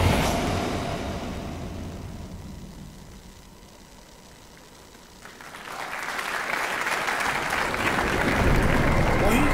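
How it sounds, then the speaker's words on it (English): Audience at a PlayStation press conference at Paris Games Week breaks into clapping, swelling from a quieter hall rumble into dense sustained applause that grows louder toward the end. "Why are you clapping for DLC?"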